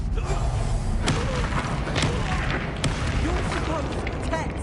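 Confringo blasting spells go off in the video game Hogwarts Legacy amid combat, several sharp booming impacts over a constant loud, low rumble, arriving roughly a second apart.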